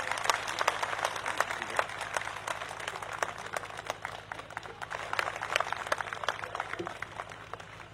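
An audience applauding loudly at a public speech in Jammu, a dense, steady wash of clapping that continues throughout, somewhat distant and alone.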